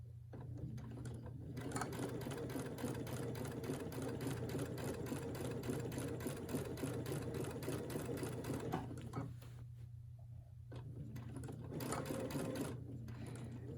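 A Brother sewing machine with a 7 mm walking foot stitches in a steady, fast mechanical whir, pausing briefly twice and then resuming, fairly quiet and without talk.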